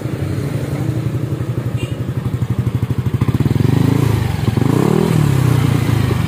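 Yamaha Aerox automatic scooter fitted with its original ROB1 exhaust, idling close by with a steady low thrum that pulses and rises as the throttle is blipped, the motor sounding loud and continuous throughout.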